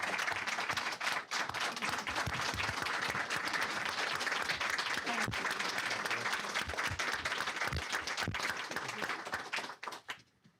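Audience applause at a school board meeting, steady dense clapping from a room of people sustained at full strength for about ten seconds, then tapering off quickly at the end.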